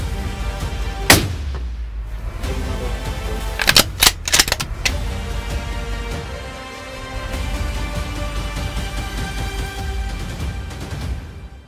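Rifle shots fired at a deer during a hunt in New Zealand: one loud sharp crack near the start, then a quick cluster of several shots a few seconds later, trailing into a rumbling outdoor background with no talk.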